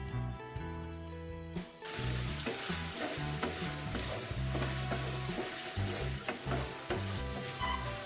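Chopped ridge gourd frying in a hot pan for a chutney, a dense close sizzle with repeated spatula stirs and scrapes after a brief quieter opening, no voices.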